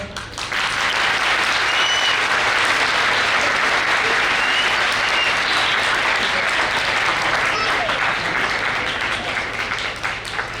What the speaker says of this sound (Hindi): ये तालियां आपके लिए बजाइए ना